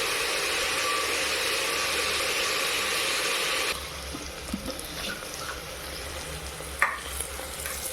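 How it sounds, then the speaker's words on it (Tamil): Onions fry in hot oil and are stirred for mushroom biryani. A loud, dense sizzle runs for a few seconds, then drops to a quieter crackle broken by scraping stirs and a sharp clink, with no talking. "அடுத்த ஆனியன் போட்டு நல்லா வேவிட்டோம் நல்லா கலந்துக்குவோம்"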